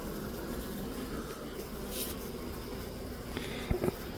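Honeybee drones buzz close by near a hive, a steady insect drone filling the whole clip with a few louder passes near the end.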